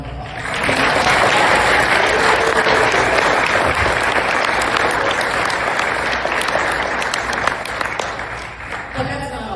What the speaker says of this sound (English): I'd like to give them everybody a round of applause.